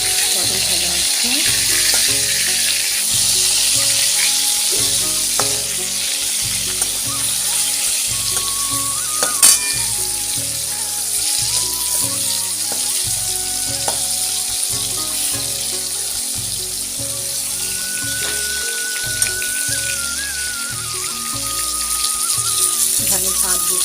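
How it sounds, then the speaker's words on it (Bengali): Pointed gourd (potol) slices fry in hot oil, a dense, continuous close sizzle with crackling pops and an occasional light clink, steady throughout. "আমি এখন পটল ভাজা করছি।"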